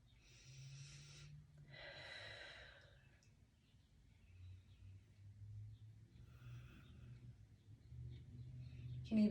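Slow, soft breaths during a yoga balancing pose: a long inhale and exhale, then gentle airflow, faint and close in a quiet room.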